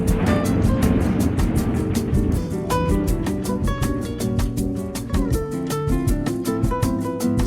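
A San Francisco cable car runs on a weekday morning toward Chinatown, producing a loud continuous rumbling roar with dense metallic clanks and rattles ticking steadily throughout, close and unbroken.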